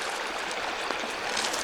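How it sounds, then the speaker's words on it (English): Creek water flows in a steady, close rush of broadband noise with no distinct splashes, heard on its own without talk. "Getting across the creek."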